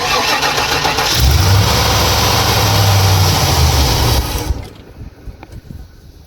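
A 2000 Chevrolet K2500 truck engine cold-starts with a long, loud cranking whine for about three seconds, then cuts off into near quiet with faint knocks.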